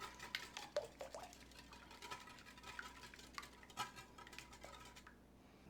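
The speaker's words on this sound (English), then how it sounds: "Now we're just gonna mix it up." A whisk or spoon mixes French toast batter of heavy cream, cinnamon, vanilla and sugar in a bowl, giving faint, close clicking and scraping against the dish with no voices.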